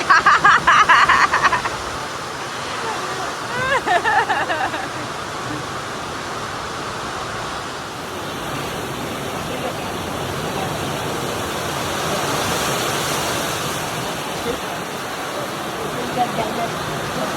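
A downpour of very heavy rain runs with rushing water, a loud, unbroken wash of noise that stays constant throughout, with a few brief sounds near the start.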